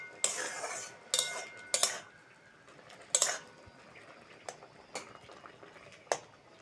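A metal pot lid clanks and rattles a few times as it is lifted off boiling taro greens (kochu shak) simmering with turmeric in a home kitchen, with faint bubbling between the sharp, close clinks.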